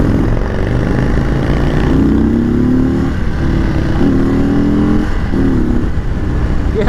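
An Indian Chief Bobber V-twin cruiser in sport mode pulls hard through several quick throttle bursts, its loud, close engine note rising and falling in repeated surges.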